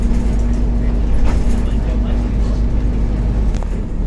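City bus driving on the Jagorawi toll road toward Jakarta, a steady loud engine drone with a constant low hum and road rumble throughout, close and continuous.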